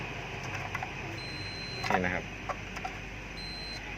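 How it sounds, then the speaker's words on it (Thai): A multimeter gives continuity beeps while measuring resistance during the replacement of an automatic water pump's breaker. Two steady, high-pitched electronic beeps sound close by, and someone speaks briefly between them. "เสียงตี๊ดๆนี่คือเสียงมิเตอร์ผมนะครับ"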